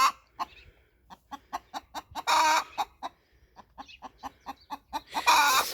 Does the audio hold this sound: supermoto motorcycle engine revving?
no